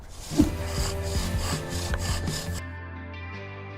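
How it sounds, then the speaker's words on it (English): Rhythmic wooden rubbing strokes repeat back and forth, a bow drill spindle grinding against a board, close and steady, then fading to a low hum. "A bow drill."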